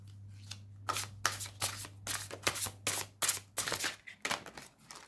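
Cards for a card reading being drawn and handled, a quick series of close, crisp papery flicks and snaps in an irregular rhythm against a quiet room with a low steady hum.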